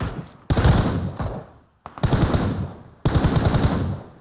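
Bursts of automatic gunfire in the PUBG Mobile video game come in three loud, rapid strings, each fading out before the next begins, with no talking.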